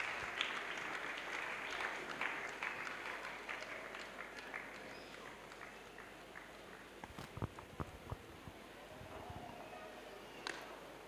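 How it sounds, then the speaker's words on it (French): A crowd at an evangelistic church crusade applauds for Jesus, the clapping dense at first and then thinning out, under a moderately distant reverberant space with some voices. "A clap for Jesus."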